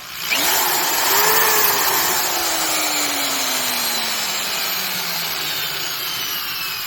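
A Milwaukee 9-amp hammer drill motor winds down after the trigger is released, its whine sliding slowly lower and fading over several seconds as the motor coasts to a stop.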